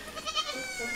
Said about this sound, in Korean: 울음소리의 주인공들. 산비탈 뛰어다니는 녀석들은 한 부부가 키우는